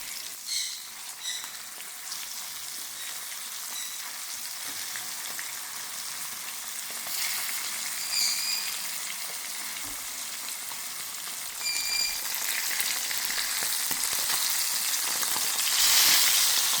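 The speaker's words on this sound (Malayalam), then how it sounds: "മീനായ വറുത്തിട്ട് കാണിച്ചു തരാം." Tilapia fish frying in hot oil gives a continuous, close sizzle with crackling pops that builds slightly louder toward the end, with no voices.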